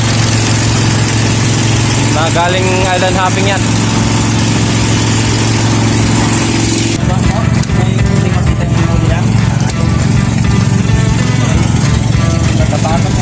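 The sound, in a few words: motorboat engine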